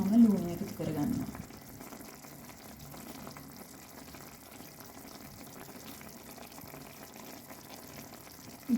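Food cooks in a pot of water without oil, giving off a faint, steady low bubbling and hiss throughout, with a voice briefly heard at the start.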